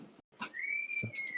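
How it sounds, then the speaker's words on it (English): A person whistles a single sustained, slightly rising note, close and clear, picked up by a sensitive microphone, with a few soft breathy noises around it. "Who the fuck is whistling?"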